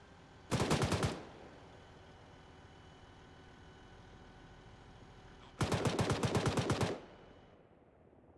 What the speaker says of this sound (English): Still taking fire from the ridge line